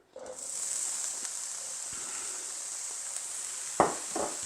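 Chopped bacon sizzles in a pan, a steady bright hiss throughout with a couple of louder knocks or stirs near the end, no talking.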